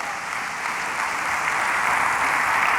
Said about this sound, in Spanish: Déle ese aplauso fuerte